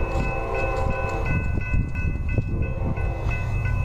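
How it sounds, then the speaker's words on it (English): A Kansas City Southern freight train rumbles past close by in Mansura, Louisiana, with loud low-pitched engine drone and a steady tonal hum throughout. "Here's the train, guys."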